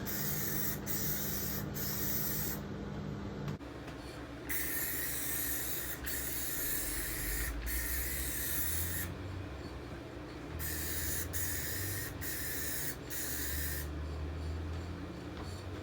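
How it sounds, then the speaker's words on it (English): A steady, loud whooshing hiss from an RV ventilation fan runs the whole time, with broadband noise bursts switching on and off over a constant droning hum. "I have the fan running, that's what that awful noise is"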